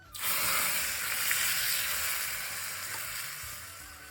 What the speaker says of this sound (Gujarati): હવે મિત્રો નાખ દઈએ ડુંગળી.